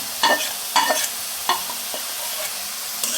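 Chopped carrot and fried egg cooking in a pan for fried rice, loud sizzling broken by four or five sharp scraping stirs of a spatula against the pan, close up and without talk.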